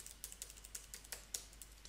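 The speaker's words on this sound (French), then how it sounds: "si je lance le jeu et que j'appuie sur les touches de mon clavier" Computer keyboard keys pressed quietly in a quick irregular series of light clicks, faint and close, with no talking.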